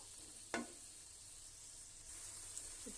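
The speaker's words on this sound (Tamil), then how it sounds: "கொஞ்சம் தக்காளி நல்லா வேகட்டும்." Tomatoes sautéing in a pan for Bangalore chicken donne biryani give a soft, steady sizzle with one sharp utensil knock early on, the frying hiss swelling slightly toward the end; no one speaks.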